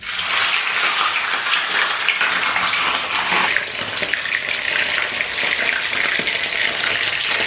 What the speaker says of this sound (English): we're going to let our fish cook on both sides to make it golden brown